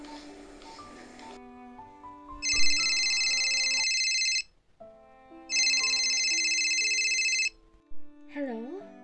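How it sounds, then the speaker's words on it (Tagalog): Phone ringing on an outgoing call, with a two-part electronic ringtone repeating twice after a short melodic dialing tune, loud and close, followed by a voice answering at the end. "Tawagan ko si Ruby"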